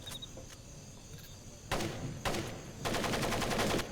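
Bursts of rapid gunfire erupt repeatedly in the video game Splinter Cell: Pandora Tomorrow, growing denser toward the end, over a low steady background rumble.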